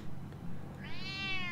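A black cat meows in the Batman: The Telltale Series video game, one rising and falling meow arriving after a moment of low background ambience, clear and near.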